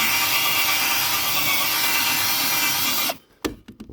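Dr. Brush all-purpose power scrubber runs steadily across a grimy surface, a loud, close, continuous whirring scrub for about three seconds before cutting off, followed by a couple of light knocks.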